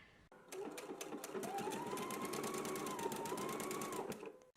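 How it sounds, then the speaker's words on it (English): A sewing machine runs a zigzag stitch along the fabric of a necktie, a steady, close, continuous mechanical whirr that starts after a brief pause and holds for about four seconds. "I am using a zigzag stitch for my tie."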